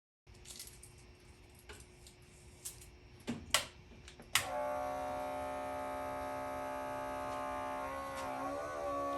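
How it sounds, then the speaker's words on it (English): An engine leak smoke tester's pump switches on with a sudden loud start after a few clicks and handling knocks, then runs as a steady, even electric hum and whine close by, with no talk. "So you can hear that pump."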